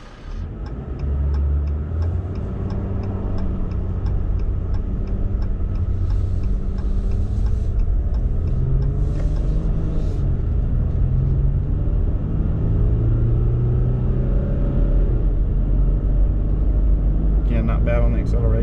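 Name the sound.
2020 Ram 1500 EcoDiesel truck accelerating while towing Kubota tractor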